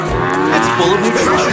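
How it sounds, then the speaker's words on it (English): A cow moos as a sound effect in a Sonic the Hedgehog Clubhouse video game. A single loud, sustained low moo fills the short moment while a voice speaks over it. "A cow sounds like this."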